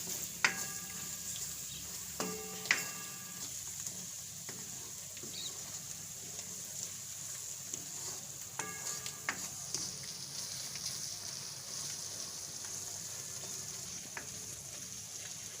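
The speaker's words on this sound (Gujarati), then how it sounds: "તો આપણે એકાદી બે મિનિટ જેવું મસાલો પકાવવા દેવું" Masala for chana dal sizzling and frying in a pan, a steady soft crackle with occasional light stirring clicks, close and continuous with no talk.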